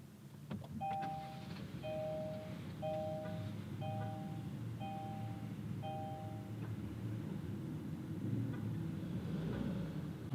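Inside a 2021 Kia Seltos SX AWD Turbo, a series of about six evenly spaced electronic chimes rings close by at push-button start, over a low steady rumble of the running turbo engine.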